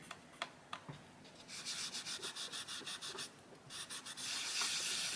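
Coloured pencil rubbed hard back and forth into paper, a close run of quick scratchy strokes in steady rhythm, sparse at first then dense and continuous.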